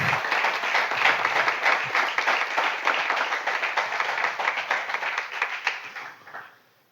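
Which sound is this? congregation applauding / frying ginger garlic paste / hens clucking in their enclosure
congregation applauding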